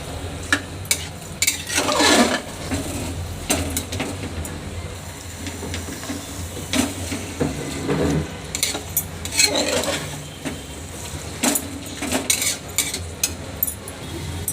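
Food gets stirred and mixed in a pan with a sizzling base and repeated spatula scrapes and clinks against the metal, coming in irregular bursts up close.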